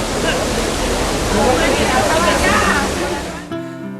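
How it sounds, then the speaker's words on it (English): The Trevi Fountain in Rome, the city's largest Baroque fountain, pours in a steady, loud, close rush of splashing water that cuts off abruptly near the end. "The Trevi Fountain is the largest Baroque fountain in Rome."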